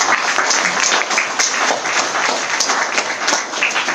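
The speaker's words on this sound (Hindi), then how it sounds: "मैं चाहता हूं कि हमारे सारे गेस्ट के लिए एक जोरदार तालियां हो जाए" Loud, dense applause from a seminar audience for the guests, many hands clapping together in a steady wash that holds for a few seconds with no speech over it.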